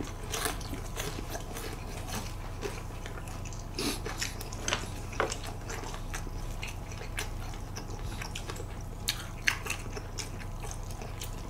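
Crispy fried cheese sticks are bitten and chewed close up during a mukbang with ramen and fried shrimp, giving a steady run of crunchy crackling chews with no talking.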